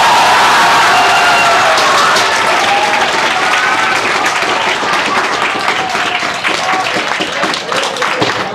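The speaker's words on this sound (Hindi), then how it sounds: "इसलिए जोरदार ताली बजाओ एक बार।" Sustained, dense applause from a large audience fills the room at a JEE Main results celebration for a top-ranking student, steady and loud throughout with a few louder claps near the end.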